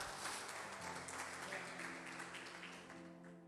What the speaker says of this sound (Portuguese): Você pode dar um aplauso ao Senhor Jesus pela minha vida?